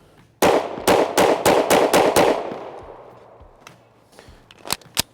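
Pistol fired with a deliberately limp, weak-handed wrist: seven sharp shots in quick succession, then two more isolated cracks near the end after a gap, loud and close with echoing decay.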